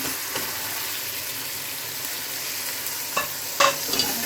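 Tomatoes go into a pan of spices frying for aloo tahari, giving a steady sizzle throughout with a couple of louder clatters and stirring bursts near the end; no one speaks.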